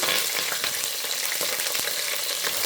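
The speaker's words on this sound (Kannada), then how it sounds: "ಈರುಳ್ಳಿ ಚೆನ್ನಾಗಿ ಫ್ರೈ ಮಾಡ್ಕೊಬೇಕು" Onions with curry leaves and green chillies frying in hot oil in a pan for avalakki uppittu, giving a steady, loud, close sizzle and crackle with a few stirring scrapes.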